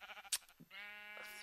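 A Minecraft sheep gives a short, nasal bleat after a couple of soft clicks, clear and close in the game audio.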